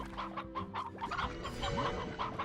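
A hen in the video game Slime Rancher clucks repeatedly in quick, close, clear bursts with a steady electronic tone sustained beneath.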